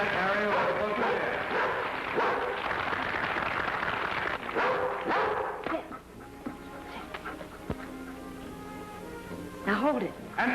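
A dog barks and yips during a dog jumping show, short sharp calls repeating over a busy, fairly loud background of voices and crowd noise that eases partway through.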